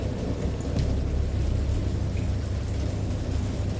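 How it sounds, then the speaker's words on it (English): A thunderstorm roars with dense, constant rain and deep rumbling thunder, a loud and unbroken wash of noise with no voices. "thunder and other tones which nature utters only in her wildest moods"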